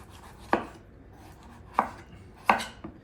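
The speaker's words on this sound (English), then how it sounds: "the most important thing is to cut all the flesh off the fruit" Knife dicing melon and papaya flesh by hand on a cutting board, three crisp, close chopping knocks spaced irregularly, with quiet pauses between them and no talking.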